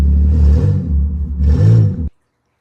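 An Infiniti G37 coupe fitted with an ISR single exit exhaust revs hard in two loud, close bursts with a deep rumble, then cuts off sharply into silence.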